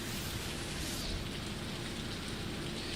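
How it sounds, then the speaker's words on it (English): Heavy rain from Hurricane Helene pours down in Boone, a dense, unbroken hiss of falling water that holds steady and fairly loud throughout, with no voices over it. "the rain has really picked up from what we saw here yesterday"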